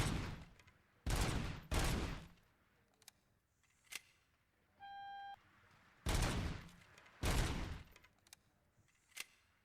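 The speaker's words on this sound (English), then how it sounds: "We end up giving the shooting range a visit." Gunfire at a shooting range in a RoboCop video game, sharp loud bursts in separate groups with short gaps between them, plus a brief electronic tone and a few small clicks.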